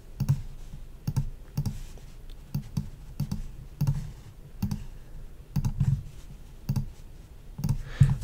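Computer mouse clicks come in irregular bursts, some single and some doubled, close and fairly quiet, while dust spots are retouched in photo editing software.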